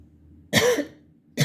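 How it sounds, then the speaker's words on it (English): One loud, harsh cough bursts out close to the mic, followed by the start of a second cough, part of an indoor coughing fit. "I didn't want to have a coughing fit on camera."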